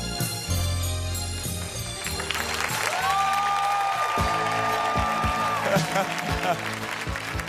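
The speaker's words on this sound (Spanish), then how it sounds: "Fuerte el aplauso para Ronnie o Julián Hammer." Applause from a crowd at a Got Talent Chile quarterfinal, rising and continuing for several seconds, mixed with loud music and voices over it.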